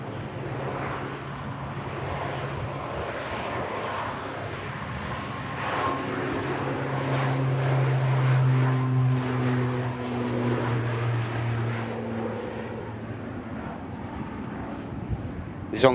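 An ATR turboprop aircraft at Manchester Airport drones steadily with a low engine hum that swells slightly midway, heard at a moderate distance with some wind noise.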